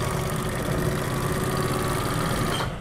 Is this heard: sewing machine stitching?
yes